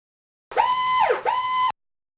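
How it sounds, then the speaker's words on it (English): Tornado warning siren: a short electronic wail that rises, dips low and swoops back up in two sweeping tones, clear and fairly loud against silence, no talk. "That's the siren."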